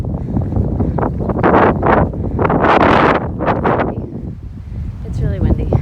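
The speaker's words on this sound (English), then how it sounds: "It's really windy." Gusty wind buffeting the microphone in loud roaring surges, with a voice talking faintly underneath.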